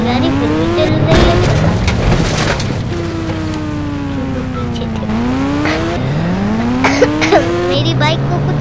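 A damaged motorbike in a video game keeps running, its engine whining up and down through repeated revs beneath busy crashes and scrapes, while a voice talks over it.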